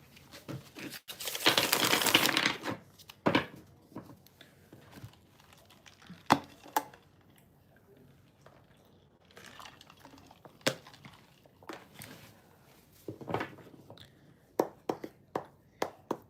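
Tarot cards being shuffled, a burst of papery crinkling and riffling early on followed by sparse, quiet taps and card flicks at close range.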